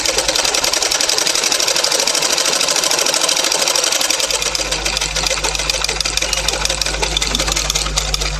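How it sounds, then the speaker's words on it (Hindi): A sewing machine stitches a strip onto a baby's jabla vest with a continuous close whirring run of needle strokes. A low steady hum joins partway through, and no one speaks. "लेकिन ये अब हम पट्टी लगा रहे हैं तो"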